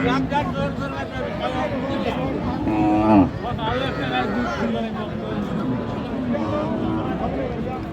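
A cow lows once, loud and close, amid steady chatter from a crowd of people talking at a cattle market selling milk cows with calves.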